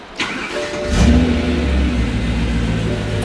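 A BMW E9X M3 with the S65 engine cranks and fires up with an ECS valved exhaust closed, a short starter whir then a loud catch and flare settling into a steady, deep, muffled idle, up close.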